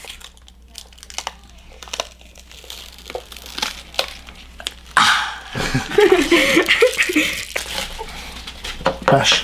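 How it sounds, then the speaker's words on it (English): Protective plastic film is peeled off a new Xbox One power supply brick, a crinkly tearing rustle that swells louder in the second half after scattered small handling clicks, with a brief exclamation. "there's nothing more satisfying than peeling the plastic off of a new unit"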